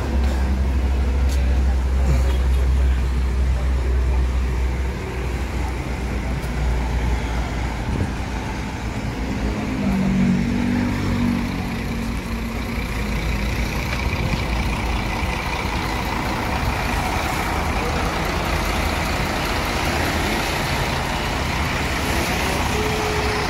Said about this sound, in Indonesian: Lalu lintas ramai, lancar.